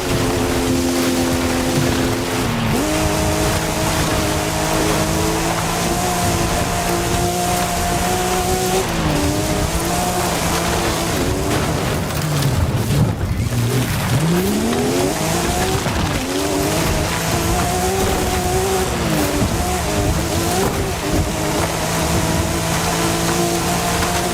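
A race car in Forza Horizon 5 loses traction and slides into oversteer: a loud, sustained engine drone whose pitch falls and climbs through gear changes, with tire squeal as the car slides, and no talk.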